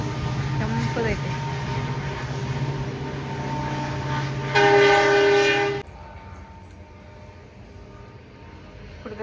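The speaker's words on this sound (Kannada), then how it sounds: "ಪ್ಯಾಸೆಂಜರ್ ಟ್ರೈನ್ ನೋಡ್ರಿ ಅದು ಹೊಸಾದ" A new passenger train rumbling past close by, its horn blaring loudly and steadily for about a second before cutting off, leaving a quieter rolling rumble behind, with a voice talking over the early part.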